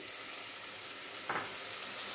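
Steady frying sizzle of onion and tomato masala, with a brief louder hissing burst partway through as water hits the hot pan, then the sizzle continues.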